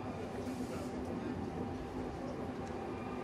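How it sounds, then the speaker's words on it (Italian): A train pulls into a station on the reopened Andria–Corato rail line, heard as a steady, faint, low rumble with a voice faintly present. "È il primo treno in arrivo in stazione"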